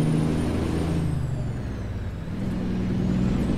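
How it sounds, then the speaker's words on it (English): Truck air brakes in American Truck Simulator, a close, steady heavy engine rumble with a falling pitch and a faint hiss as the truck brakes hard. "somebody slammed on their brakes in front of me"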